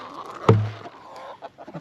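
A chicken in a PVC-framed, bird-netted chicken run gives a single loud, close cluck, with fainter soft clucks and rustling after it.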